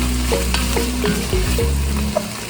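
Nutritional yeast being stirred into broccoli soup in a sizzling pot, with steady stirring scrapes and faint bubbling, close and continuous, no talking.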